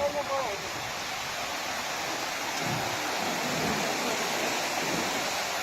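Floodwater pours over a road after heavy rain, a steady, loud, broadband rushing roar that barely changes, with a brief voice at the very start.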